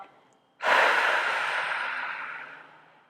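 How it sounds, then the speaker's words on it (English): One deep cleansing breath, drawn in through the nose and let out through the mouth, rises abruptly into a long, close, airy rush that slowly tapers away. "We'll take one more cleansing breath. Inhale through the nose. Exhale through the mouth."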